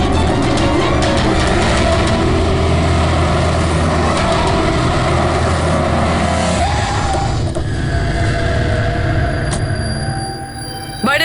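A car engine pushing hard during a chase to overtake a taxi on a city road, a steady loud roar with rumbling road noise that holds throughout and eases slightly near the end.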